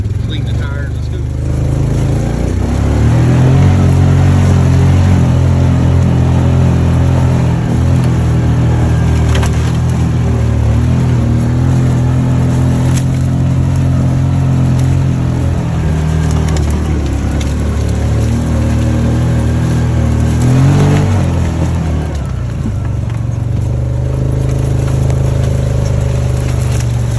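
Vehicle climbing a hill in high gear with full drive while hauling tree stands: a loud, steady engine drone with low rumble that rises and falls slightly throughout, joined by occasional knocks and rattles.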